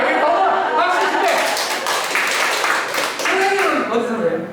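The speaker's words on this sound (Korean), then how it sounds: "여기도 박수 한번 쳐주세요" People in a lecture audience give scattered bursts of clapping mixed with talking and a little laughter, the claps uneven and close, while a voice keeps speaking over them.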